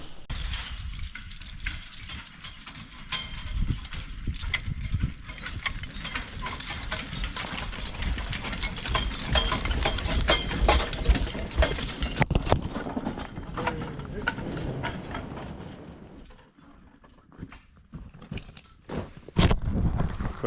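Horse hooves clip-clop steadily on a woodland trail while a team drags red oak logs from the felling site to the landing, with chains clinking and a voice speaking at times.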